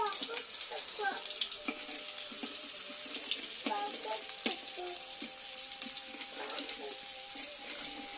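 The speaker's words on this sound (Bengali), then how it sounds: "গরম গরম তেলে পেঁয়াজ আর মরিচ দিয়ে দেওয়া হলো" Onions and chilies sizzle in hot oil, a steady close frying hiss with light scraping and stirring clatter throughout.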